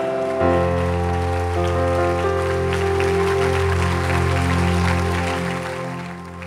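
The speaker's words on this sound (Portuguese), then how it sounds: "Vamos dar uma salva de palmas para Jesus." A church congregation claps steadily during a worship service, a dense patter of applause over sustained keyboard chords.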